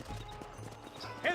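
Horse hooves trotting in Red Dead Redemption, a rapid run of clip-clop footfalls close by under a faint voice.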